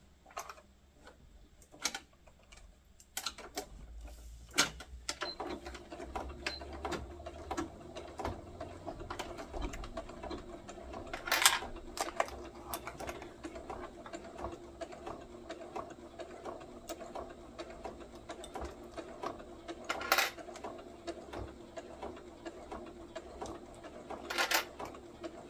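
A sewing machine runs in short back-stitching bursts while sewing a fabric neck snood, with quiet rhythmic mechanical ticking and clicks at low volume and a few sharper knocks.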